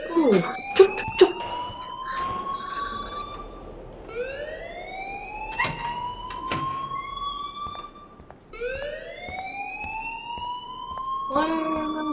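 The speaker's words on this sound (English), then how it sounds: "please turn off that alarm since that's your job" An alarm in the video game Life is Strange rings as a repeated rising electronic siren whoop, loud and steady, over background noise with a few knocks and clatters.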